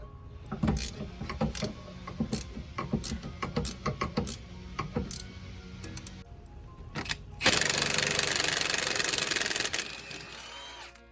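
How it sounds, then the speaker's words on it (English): A ratchet works a 14 millimeter bolt off the fork of a 1990–93 Acura Integra, giving rapid bursts of close metallic clicking, then a longer steady whirring run near the end. "Remove this 14 millimeter bolt off the fork."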